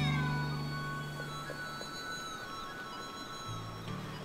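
A cat meows in the video game Suikoden V: a drawn-out, wavering call that fades away, followed by a quieter low tone near the end against soft ambient background.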